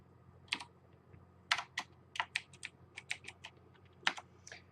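Typing on a computer keyboard, bursts of quick clicky keystrokes in irregular clusters, close and crisp against a quiet background hum.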